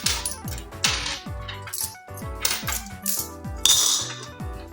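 Coins are counted out for a party game score, dropping one after another in a quick, uneven run of bright metallic clinks, close and clear with no voices.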